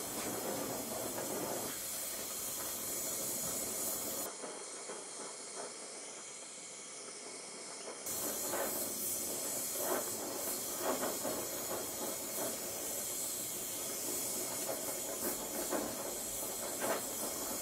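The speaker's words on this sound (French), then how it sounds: "lorsque je vais chauffer avec mon chalumeau" A blowtorch flame heats a sand-filled copper tube for bending, a steady close roaring hiss that runs throughout, briefly dipping and thinning in the middle before returning full strength with faint crackles.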